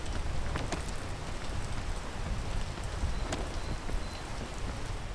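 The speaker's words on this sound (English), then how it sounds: "Once it stops raining." Steady rain falls in the video game Peak, a dense even hiss with soft scattered drop ticks and light wind noise, continuous and fairly close throughout.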